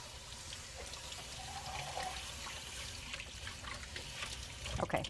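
Drained canned beans rinsed under running tap water, a soft, fairly faint continuous trickle and splash with a louder gush of water near the end and no talking.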